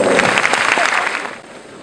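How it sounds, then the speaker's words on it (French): An audience at a formal French-language ceremony bursts into brief, dense applause that fades out within two seconds. "Sous vos applaudissements, s'il vous plaît."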